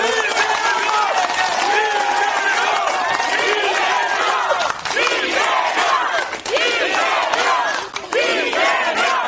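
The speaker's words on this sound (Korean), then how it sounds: "박수 한번 부탁드리겠습니다" A large crowd at an outdoor Democratic Party political rally roars with shouts and cheers, many voices overlapping continuously and loudly, with short dips and surges in the noise.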